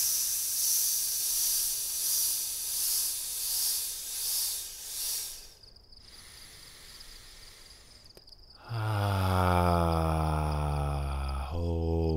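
A slow hissing exhale on an S sound during a Chi Kung breathing exercise, steady and airy for several seconds, followed by quieter breath and a sudden burst of other noise.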